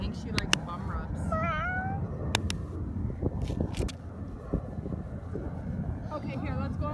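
A cat meows a few times in short rising calls outdoors near a playground slide, while wind buffets the microphone and people talk over it.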